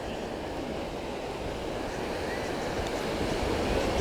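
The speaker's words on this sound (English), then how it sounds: "It's a nice sandy beach, and the ocean floor there is soft sand" Waves breaking on a long sandy ocean beach on Mustang Island, Texas: a continuous, fairly loud wash of surf that swells slightly toward the end, with no voices.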